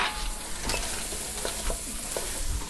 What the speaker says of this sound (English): And give them a quick stir